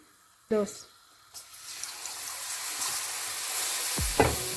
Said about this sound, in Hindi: और एक हाथ से दूध डालते जाएं और एक हाथ से चम्मच को भी साथ साथ हिलाते जाएं।